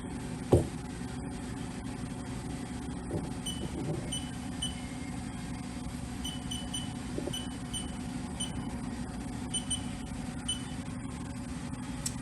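A 2008 Haas VF-1 CNC vertical machining center runs its spindle at 500 RPM, a quiet, steady low hum with faint high whine and occasional small ticks, no one speaking.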